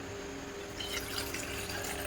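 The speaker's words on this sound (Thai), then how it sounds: "ลองเทน้ำใส่แก้วกัน" Water is poured into a 20 oz YETI Rambler travel mug with a handle, a faint, steady splashing trickle that grows slightly fuller partway through.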